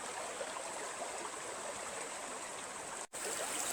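Stream water rushing along a former mill race, a constant dense close flow of even, loud noise with a brief dropout near the end, heard alone.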